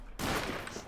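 A loud, close burst of rapid automatic gunfire erupts suddenly in the shooter game Wolfenstein: The Old Blood and stays dense until the clip ends.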